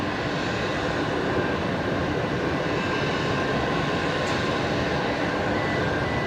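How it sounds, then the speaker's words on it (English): A Velocity airliner arriving from Canberra touches down at Brisbane Airport at night, a loud, steady broadband engine and rumbling roar filling the whole stretch without any clear change. "Velocity 1227, just touching down from Canberra, down in the ACT"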